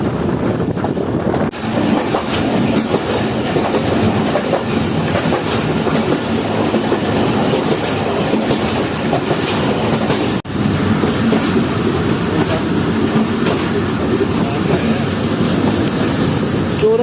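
A Jand passenger train on Pakistan Railways rolls along the rails near Chora Sharif station, with loud, steady rumbling and rhythmic clickety-clack wheel beats throughout and a brief drop near the start.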